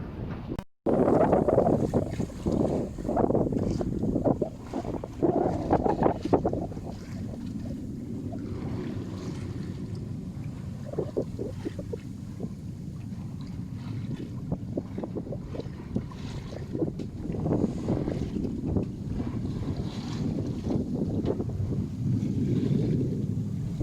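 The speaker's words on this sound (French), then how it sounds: "Il y a un peu de vent, ça avance pas fort" Light wind blows over a sailboat under sail off Port Fréjus on the Mediterranean coast. A steady, moderate rush of air and water continues throughout, louder at the start and then settling into an even background noise.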